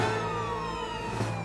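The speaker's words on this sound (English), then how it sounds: "Dodd, what do you call that sound a siren makes?" Cartoon siren wail in the animated series Duckman: a sustained, slowly falling electronic tone with layered harmonics, loud and continuous for a moment with no talk over it.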